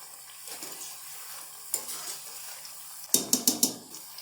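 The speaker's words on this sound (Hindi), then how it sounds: "इस तरह हम पलट लेंगे। हल्का हल्का गोल्डन कलर आने तक फ्राई करेंगे।" Crispy savoury snack dough fries in oil for a tea-time snack, a low bubbling sizzle broken by soft utensil scrapes and then a quick run of four sharp knocks as pieces are flipped.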